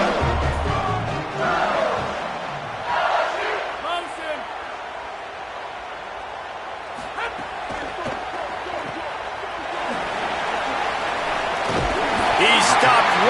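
A large LSU stadium crowd in a college football video game yells and screams continuously, a steady loud roar with occasional swells and thuds, a commentator's voice partly over it.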